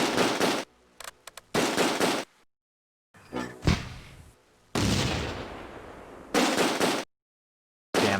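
Mortar explosions in the war game Close Combat: A Bridge Too Far land as several loud, heavy bursts separated by silences, one followed by a long rumbling decay.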